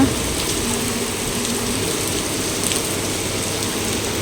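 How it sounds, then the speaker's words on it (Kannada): Heavy rain pours steadily, a dense continuous hiss of drops drumming on surfaces, close and loud with no pauses. "ಮಳೆ ಏನು ಇನ್ನೂ ಬರ್ತಾ ಬರ್ತಾ ಜೋರಾಗ್ತಾ ಇದೆ ಹೊರತು ಕಮ್ಮಿ ಆಗ್ತಾ ಇಲ್ಲ"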